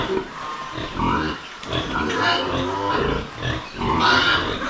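Female pigs kept in a farm pen grunt and oink repeatedly at close range, loud, uneven snorts coming in bursts across the whole stretch, with a voice faintly audible beneath.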